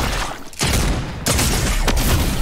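Gunshots in the video game Fortnite sound in quick heavy blasts, loud and close, with a couple of sharp cracks punctuating a dense, noisy stretch of fire.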